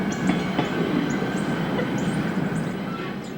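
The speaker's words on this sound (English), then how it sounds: "train L376, a Monday and Tuesday only operation, with a single unit on the point today, heads north past an old overhead truss iron highway bridge" CSX freight train L376, led by a single locomotive, rolls north past an old overhead truss iron highway bridge, a steady rumble with rhythmic clickety-clack of wheels over rail joints at moderate distance.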